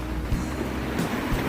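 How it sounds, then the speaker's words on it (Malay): Sea waves break on an island shore during a southerly wind, a continuous loud wash and rumble with a few surges and wind buffeting the microphone, and no talking. "ombak lebih mesra kalau kita dapat tengok"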